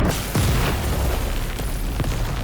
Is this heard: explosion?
yes